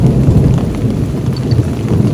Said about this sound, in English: can hear the rumble of thunder